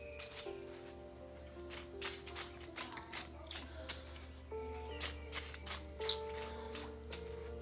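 Tarot cards shuffled by hand in a quiet room, a series of soft riffling and tapping bursts repeating over several seconds beneath faint background music.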